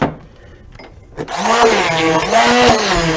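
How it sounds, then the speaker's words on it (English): An immersion blender blending potatoes: a short quiet stretch, then the motor kicks in with a loud, steady whirring whine, wavering in pitch as it churns through the mash, close by. "I'm going to use my immersion blender. And I'm going to blend it up"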